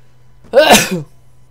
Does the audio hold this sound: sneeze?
yes